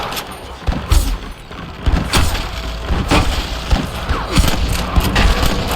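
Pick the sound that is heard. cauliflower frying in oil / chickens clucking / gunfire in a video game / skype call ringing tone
gunfire in a video game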